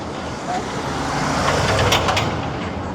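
A tour bus in London street traffic. Engine rumble and road noise hold steady at a moderate distance, with a few brief higher hisses and squeaks partway through.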